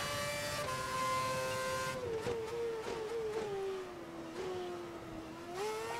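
A race car engine in F1 2011 at the Canada race weekend, a loud high-pitched whine that drops with gear changes and braking, then climbs again as the car accelerates.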